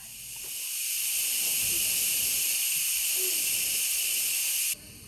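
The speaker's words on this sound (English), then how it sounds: "now I open the valve and let the steam out until all the pressure is gone" Steam hisses steadily and loudly from the pressure release valve of an Instant Pot after cooking chicken sausage jambalaya, a constant high rushing sound lasting several seconds before cutting off abruptly.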